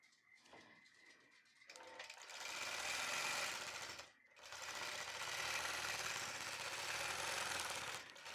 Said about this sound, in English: what I'm going to do is I'm going to sew